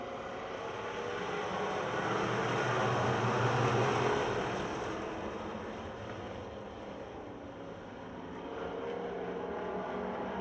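Pure stock race cars roar around the Pennsylvania Motor Speedway dirt oval during a heat race, a loud continuous engine drone that swells as the pack passes and eases slightly before building again.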